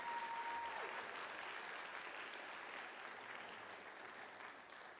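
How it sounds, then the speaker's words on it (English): Audience clapping at a Martin Luther King Jr. Day celebration, a dense, even wash of applause from a large crowd that holds steady and fades slightly toward the end. "let's give them another round of applause"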